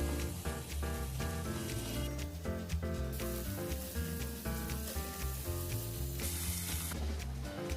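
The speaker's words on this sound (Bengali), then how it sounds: "পেঁয়াজ আর রসুনটা ভাজা হয়ে গেছে।" Chopped onion and garlic paste frying in a pan for mutton masala, a steady close sizzle running beneath background music.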